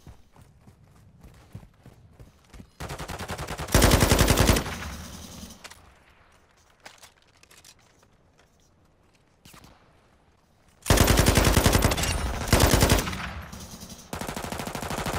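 Automatic gunfire in the video game Warzone 2 rattles out in several loud, dense bursts separated by quieter stretches of footsteps and game ambience.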